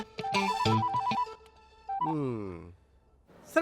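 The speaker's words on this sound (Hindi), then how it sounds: "तुम्हारे लिए फोन है।" A telephone ringtone chirps in short melodic bursts close by, falls quiet for a moment, then sounds again in a rising warble before starting once more at the end.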